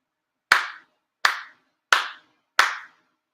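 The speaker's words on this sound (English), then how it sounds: "4 sincere claps." Four ritual claps at a monthly Shinto shrine ceremony in Chula Vista ring out sharp and close, evenly spaced, each a single clean crack with a short room decay, with silence between them and no voices.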